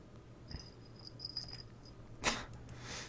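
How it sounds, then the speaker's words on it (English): A cat purrs faintly and steadily at home in the evening, a low continuous rumble beneath quiet room noise, with a few soft rustles and one brief sharper sniff-like burst partway through. "Just start hearing purring."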